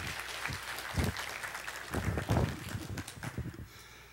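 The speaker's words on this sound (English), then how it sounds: "Give the Lord a mighty clap tonight." Quiet, uneven clapping from a church congregation during an evening service, soft patters swelling in a couple of bursts and then tapering, heard at a distance with low room noise.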